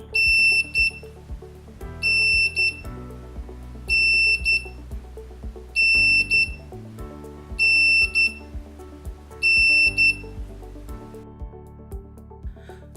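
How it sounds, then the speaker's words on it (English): A WiNoT board buzzer acting as a doorbell beeps in six evenly spaced bursts of piercing high tones, loud and close, over a looping electronic doorbell melody. "the buzzer starts to beep, or I could say that the doorbell starts ringing"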